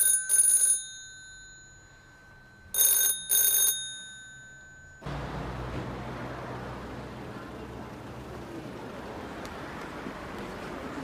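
A telephone rings unanswered in a tense hostage standoff, two short bursts of ringing separated by a pause, then a louder, steady background rumble takes over.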